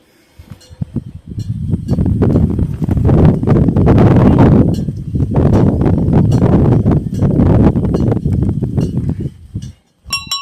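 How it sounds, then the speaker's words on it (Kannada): Strong wind buffets the microphone in heavy, rumbling gusts on a high clifftop at Ugra Stambham, Ahobilam, rising and falling for several seconds before briefly dropping away. "ಎಷ್ಟು ಗಾಳಿ ಬೀಸ್ತಿದೆ."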